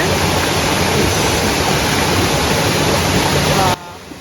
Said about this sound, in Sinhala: මේ අපි ඇවිල්ලා ඉන්නේ සිංහරාජය ඇතුළේ තියෙන පහන් ඇල්ල කියන වොටර්ෆෝල් එක බලන්න